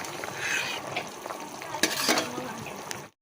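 Fish curry gravy bubbles in a pan and is stirred, giving a close, busy sizzle with scraping strokes of a spoon for about three seconds, with faint voices in the background.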